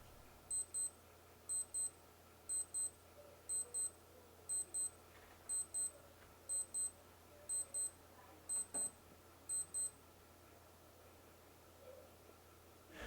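Alarm on a Casio G-Shock Gravity Master GR-B100 watch: ten evenly spaced pairs of thin, high electronic beeps over about ten seconds, faint against a quiet background hiss.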